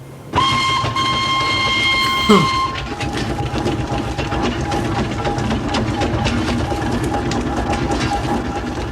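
A steam engine runs with a steady mechanical chugging and rumble, and a sustained whistle-like tone sounds at the start before dropping away; the machinery continues loud and close throughout.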